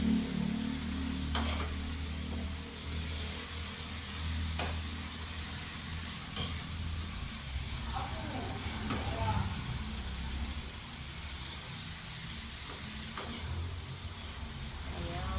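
Sweet potatoes and potatoes fry in a pan for chicken adobo, a steady, close sizzle broken by repeated scraping stirs throughout.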